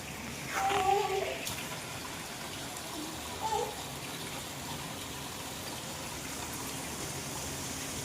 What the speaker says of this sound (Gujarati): વરસાદ ચાલુ થઈ ગયો છે જોરદાર